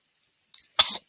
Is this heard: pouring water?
no